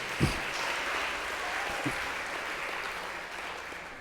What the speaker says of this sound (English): I love it when people clap for the oaks.